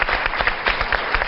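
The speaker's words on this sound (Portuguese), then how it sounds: "Retribuímos este aplauso." Audience applause for a doctor, a dense, steady burst of many hands clapping that fills the moment at moderate loudness, with no talk over it.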